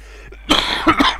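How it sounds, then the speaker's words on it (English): A few close, harsh coughs in quick succession, loud and raspy, with a short gap between the first burst and the last two. "Sorry, I keep coughing."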